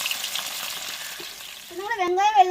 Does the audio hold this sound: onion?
yes